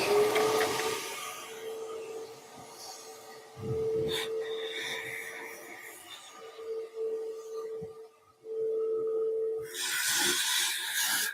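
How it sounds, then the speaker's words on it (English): A vacuum nozzle sucks debris out of a car engine bay during an engine and idler pulley mount reinstall, a steady close whine and hiss that changes pitch as it moves, cutting out and restarting. "We'll suck this out really quick."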